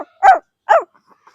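A young child imitates a puppy's bark with two short, close yelps about half a second apart, followed by faint trailing sounds.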